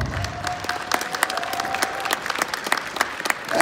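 An audience at the 2018 Icelandic boccia championship claps steadily for the organising committee, a dense, even patter of many hands with no voices over it.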